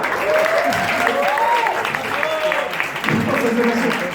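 Sustained, dense applause from a French variety-show studio audience, with voices talking over the clapping.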